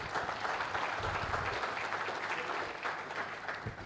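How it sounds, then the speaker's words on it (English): A conference audience applauds in a hall, a dense, sustained wash of clapping hands at an even level that tapers slightly toward the end. "I think you deserve another round of applause."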